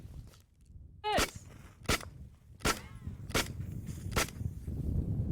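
Beretta 92 FS pistol fired with a 15-round magazine: five sharp, close gunshots at a steady pace about a second apart, each cracking loudly over outdoor background noise.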